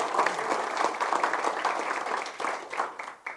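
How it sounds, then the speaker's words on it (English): A roomful of members at a tour guides' association meeting claps for the committees, steady dense applause filling the space for a few seconds before thinning into scattered final claps. "So let's get a little round of applause for the committees."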